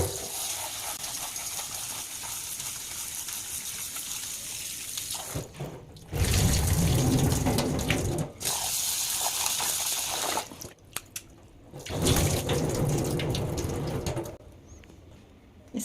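Poha (flattened rice) rinsed under a running kitchen tap, a continuous splashing water stream that stops and restarts several times with brief quieter gaps.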